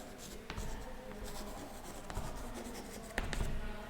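A pen or marker writing on a board in a classroom lesson, with scratchy strokes and taps coming in uneven bursts, close and moderately loud, no voices.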